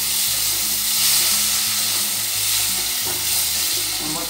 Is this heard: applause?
no